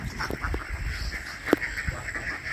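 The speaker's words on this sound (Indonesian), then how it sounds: "Itik hitam dan itik coklat." Ducks quacking nearby at a duck pen, a few scattered short quacks over a quiet outdoor background.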